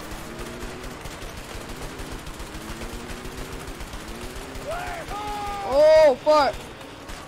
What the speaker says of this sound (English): No, they are shooting through the goddamn grass. Shooting through the walls.